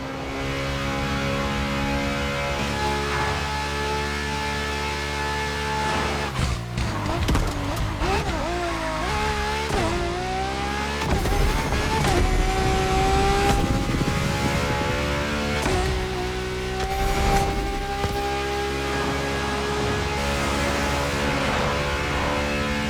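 A luxury prototype car engine drones steadily in The Crew Motorfest, its pitch rising and dipping as it accelerates, loud and close throughout.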